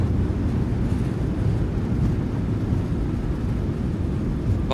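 Takeoff roll of a PMDG 737-800 in Microsoft Flight Simulator 2020: a steady, loud low-frequency engine and runway rumble with a wind-like roar, constant throughout with no talk.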